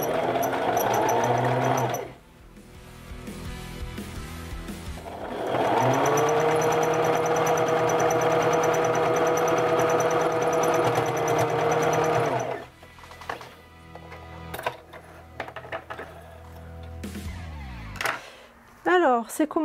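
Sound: sewing machine stitching a bra

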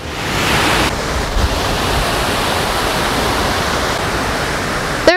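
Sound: 6 meter high waterfall on Oakley Creek, Auckland

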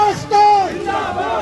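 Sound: crowd shouting slogans at a rally

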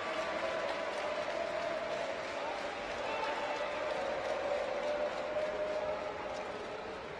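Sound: volleyball crowd applauding Turkey

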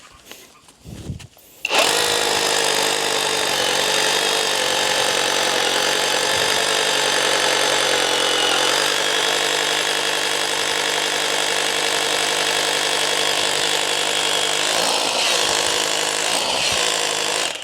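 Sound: Masaru cordless rotary hammer drilling

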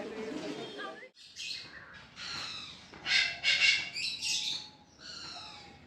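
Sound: birds chirping

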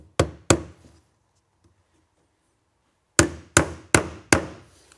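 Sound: hammering nails into a wooden batten

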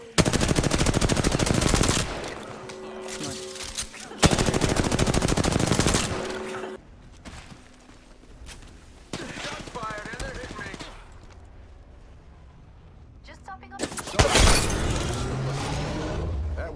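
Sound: gunfire in a video game, likely Apex Legends

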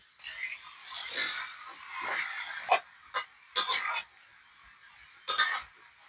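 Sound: adding small shrimp and fried vegetables to a wok

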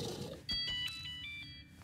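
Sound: phone ringing in the video game Warframe

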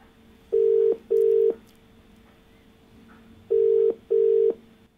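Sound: telephone line connecting to a TV call-in caller

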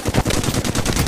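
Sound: gunfire in a video game

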